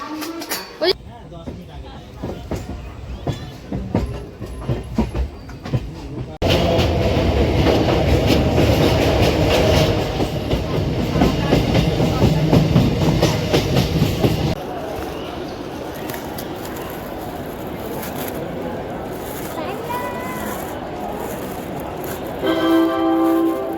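Bandel–Howrah local train running on the rails near Nabadwip Dham station, a steady loud rumble with clickety-clack wheel noise that swells in the middle, while voices talk over it and a station announcement comes through at the end.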